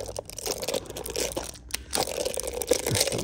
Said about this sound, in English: rip the packaging off